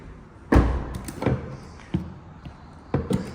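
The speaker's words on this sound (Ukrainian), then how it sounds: "Так, це замок блокування дверей." Door lock mechanism on a BYD Song Plus car, giving four separate clunks and thumps spaced about a second apart, fairly close with a quiet gap between each.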